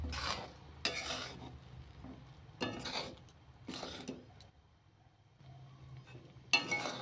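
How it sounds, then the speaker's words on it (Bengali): Amla (Indian gooseberry) pickle being stirred in a pan after fried spice mix is added, on a gas stove: several scraping, clinking spoon strokes against the pan in separate bursts, with quiet gaps and a faint sizzle between them. "ওটা দিয়ে ভালোভাবে নেড়ে নেব।"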